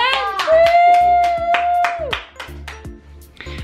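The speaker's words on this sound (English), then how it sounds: "Yeah. Clap." Hand clapping at home, a series of distinct individual claps in an uneven rhythm, close and fairly loud, overlapping a child's high-pitched voice.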